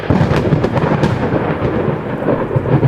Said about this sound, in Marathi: तेवढ्यातच आकाशात जोरदार वीज कडाडली